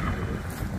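Wind buffets a microphone outdoors in steady, rough low rumbling gusts, loud and continuous for a brief moment with no voices.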